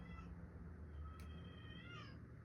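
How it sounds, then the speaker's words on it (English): Indoor cat yowling in a hallway, a faint, drawn-out meow-like cry over low background hum, heard alone without talk. "My cat's in the hallway yelling."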